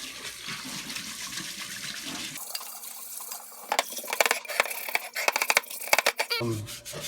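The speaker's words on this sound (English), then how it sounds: "So we'll just go ahead and add water and scrub with our scrubbing." Running water and scrubbing on a non-stick pan with no soap, first a steady rush of water, then busy irregular scraping and clattering strokes close up.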